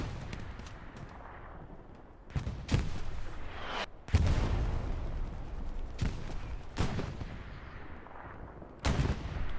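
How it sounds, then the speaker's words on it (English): Artillery shelling in Hell Let Loose pounds a battlefield with repeated heavy booming impacts at irregular intervals, each blast loud and rumbling, layered over constant distant gunfire. "They're gonna keep getting shelled by artillery here."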